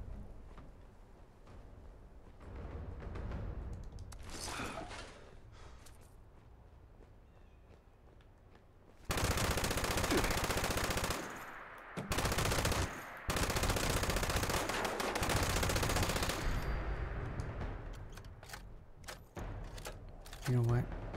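Heavy automatic gunfire from big guns in Fallout 76 during a raider bot mission, long loud sustained bursts broken by brief pauses, with quieter game ambience and distant shots before it.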